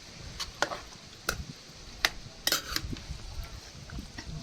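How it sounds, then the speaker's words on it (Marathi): Mutton stirred into masala in a cooking pot, heard as a few scattered scrapes and clinks of the utensil against the pot over a faint background, fairly quiet and close. "आता आई कसं मसाल्यामध्ये मिक्स करते बघा त्याला"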